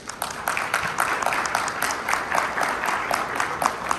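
Steady, moderately close audience applause for a doctor at a panel discussion on the criminal justice system, a continuous patter of many hands clapping with no talk over it.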